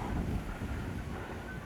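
Wind on a hilltop trek at Madhugiri, a steady gusty roar buffeting the microphone, loud and continuous with no voices over the short stretch.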